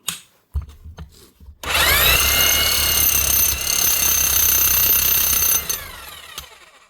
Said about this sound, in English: One Makita hammer, an old HR 5000K from 2007